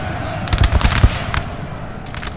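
Massed musket volleys crackle in Napoleon: Total War during a 3v3 battle on a mountain map, a dense run of sharp loud cracks peaking in the middle, then thinner scattered shots toward the end.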